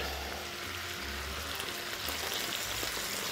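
A steady, crackling sizzle of salted meat (pork loin) frying in a hot pan, continuous and fairly quiet, with a faint low hum underneath.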